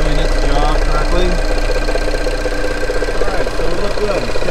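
A Mini Cooper engine idles steadily after a valve cover gasket and PCV valve repair, a loud, even mechanical hum with a light ticking knock running throughout, close up and uninterrupted.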